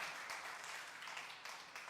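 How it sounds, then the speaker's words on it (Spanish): A church congregation claps together in a steady, faint patter of applause at a Sunday service, with no voice over it. "¿Por qué no le das aplauso a Dios por ello?"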